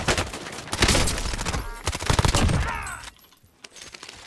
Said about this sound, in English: why is this guy shooting me through the wall?